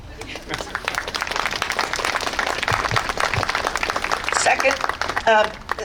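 Applause from a crowd at a political rally, steady dense clapping throughout with voices and cheering mixed in, fairly loud and sustained for several seconds.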